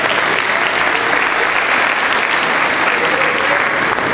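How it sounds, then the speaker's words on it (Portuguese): A church congregation applauds a volunteer during a sermon, producing loud, dense, sustained clapping that stays steady throughout. "Vamos aplaudir o Júlio?"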